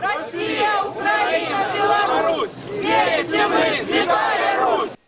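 A large crowd on a Moscow square shouting in unison, loud and continuous rolling chants that swell and dip in waves, with a roar of many voices throughout.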